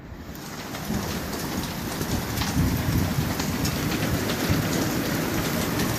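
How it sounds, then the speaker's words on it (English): A heavy Colorado hailstorm pelts down in a dense, continuous drumming that swells slightly and stays loud and close the whole time. "Crazy amounts of hail."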